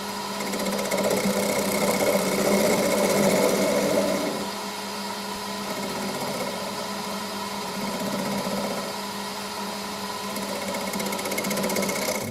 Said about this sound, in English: starting on the hollowing section now. Once again, 3/8 bowl gouge.